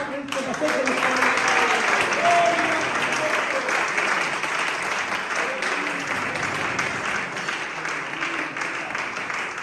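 Church congregation clapping through a sustained applause during a Christology workshop, with voices and singing-like tones running underneath and the clapping easing off slightly toward the end.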